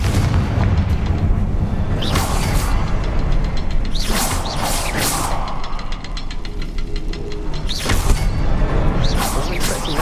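Confringo fire spells burst repeatedly in Hogwarts Legacy, giving booming explosions with whooshing blasts in a steady loud barrage under game noise.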